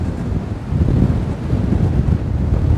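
Strong wind roars aboard a sailboat at sea in a force 9 gale, a loud, continuous low buffeting rush over the microphone with the wash of waves beneath it.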